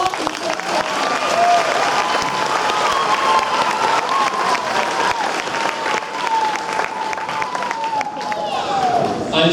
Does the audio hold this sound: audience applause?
yes